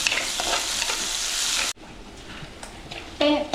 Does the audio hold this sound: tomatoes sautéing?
yes